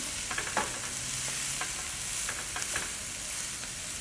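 Celery stirred and frying in a hot pan, a soft, steady sizzle with a few scraping strokes of the spoon, close by and fairly quiet, with no one speaking.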